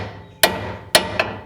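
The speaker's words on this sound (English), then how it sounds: "bit of tapping on the side of the spindle will just break it loose" Hammer tapping the side of a car's suspension spindle to break it loose, three sharp metallic strikes close by, the first two evenly spaced and the third quicker and softer.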